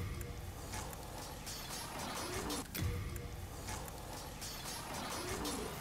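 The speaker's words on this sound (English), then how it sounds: "as soon as you hear both the skeletons starting to roll again" Skeletons rolling in the Demon's Souls video game, a continuous rattling, clattering rumble that stays fairly loud and steady throughout, with a brief heavier thud partway through and no voices.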